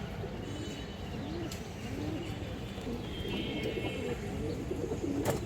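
Pigeons at a Bengali pigeon market or loft, including fancy breeds such as black-necked and high-flyer birds, coo softly and repeatedly under a steady bed of ambient noise, with faint chirps mixed in.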